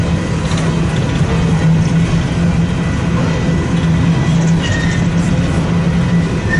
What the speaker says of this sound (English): Let's pan west with this westbound empty coal drag.